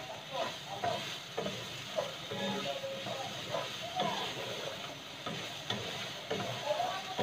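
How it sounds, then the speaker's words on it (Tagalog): Bitter melon, ground pork and green chili sautéing in a pan give a steady, close sizzle and hiss with regular scraping stir strokes, while a person talks at times. "Ayan po, igigisa lang po natin hanggang sa ano na po"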